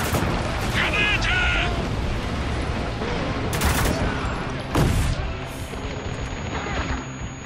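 Grenade blast and gunfire in the video game Spec Ops: The Line, a dense, continuous barrage of game combat noise with several sharp bursts standing out, loud throughout.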